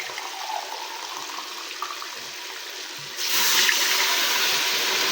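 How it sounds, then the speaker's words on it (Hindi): Water pours from a glass into a pot of spiced chicken for haleem, a soft trickle that turns into a louder, fuller rushing splash partway through, with no talk. "इसमें हमने 4 गिलास पानी ऐड करना है।"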